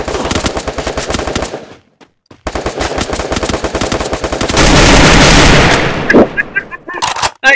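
Rapid automatic gunfire in the video game Free Fire, loud and close, with bursts of rattling shots, a short pause, then sustained firing and scattered shots to the end.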